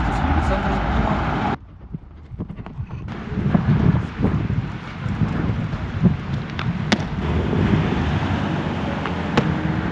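Wind buffets a microphone outdoors with low rumbling gusts. A brief lull comes early, then the rushing resumes and holds steady.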